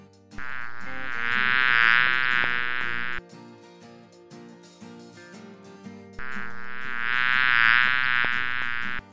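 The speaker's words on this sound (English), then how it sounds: "Bee." Two bursts of insect buzzing, a high whining drone lasting a few seconds each, separated by a quieter gap with soft music underneath.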